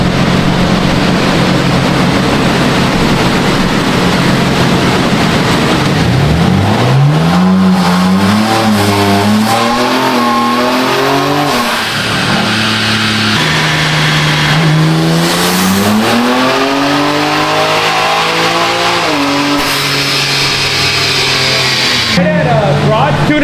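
A tuned BMW M3 CS G80 making about 700 wheel horsepower accelerates hard. The loud engine climbs through several rising pulls, each broken by a quick gear change, then settles to a steady drone near the end.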